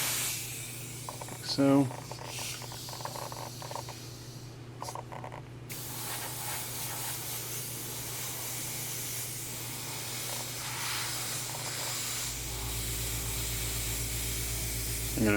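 An airbrush spraying paint onto a quarter-scale Deadpool figure, giving a steady close hiss that runs for long stretches with brief pauses, with someone talking quietly in places.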